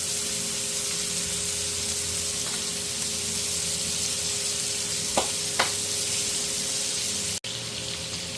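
Melted butter and fresh rosemary sizzling in a HexClad frying pan, a continuous close, even hiss with a couple of faint clicks and a brief dropout near the end, no talking.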